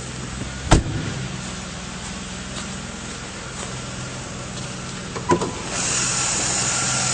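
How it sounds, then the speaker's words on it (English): A 2006 Chevrolet Malibu SS engine idles steadily under the hood with a low, even hum and faint hiss, broken by a couple of sharp clicks or thumps. "It's a nice clean engine bay, and it's running nice and smoothly."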